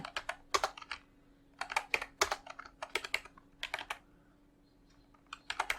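Keys clack on a computer keyboard during typing in Google Docs, with quick irregular bursts of crisp, close key presses separated by short pauses and a faint steady hum beneath, without speech.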